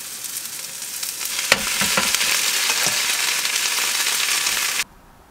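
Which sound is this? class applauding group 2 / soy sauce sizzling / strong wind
soy sauce sizzling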